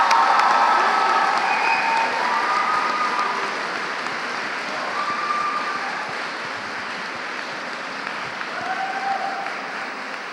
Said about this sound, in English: giving them a warm round of applause